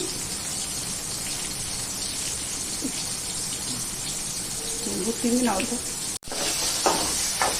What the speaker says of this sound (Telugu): ఆయిల్ వేడెక్కింది. ఇప్పుడు బీరకాయ ముక్కలు వేసేసుకుందాం.